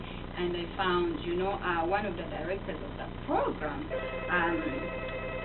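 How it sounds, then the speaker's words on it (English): A telephone rings with steady repeated electronic tones under a person's continuous talk, close and moderately loud against the voice. "Excuse the phone, people."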